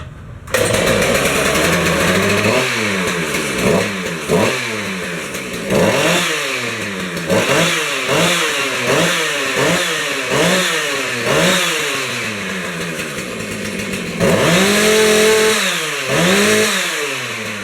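A Husqvarna 450 Rancher chainsaw engine runs loudly and steadily, repeatedly revving up and dropping back in a choppy, rising-and-falling rhythm.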